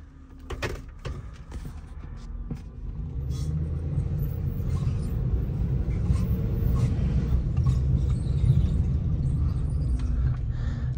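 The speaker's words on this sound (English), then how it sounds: "Definitely can hear it making some squealing and some squeaks." A 2019 GMC Sierra 2500HD pickup with a bad CV axle and 160,074 miles drives slowly in a yard, a steady low engine rumble with sharp squeaks and squeals early on, close and loud, without talk.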